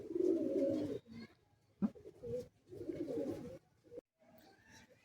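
Pigeons coo in a loft in low, throaty phrases repeated several times nearby, with short pauses between them.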